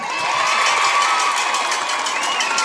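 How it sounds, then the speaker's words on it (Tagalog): A crowd at a political rally cheers and shouts loudly, a dense continuous roar of voices with some clapping underneath, close and sustained. "Tingnan nga natin, pumalakpak nga kayo."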